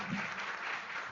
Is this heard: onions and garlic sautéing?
no